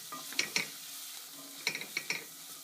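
Rinsed chickpeas are mixed in a frying pan, giving a faint sizzle under two short bursts of scraping and clattering stirs, close and quiet, with no speech.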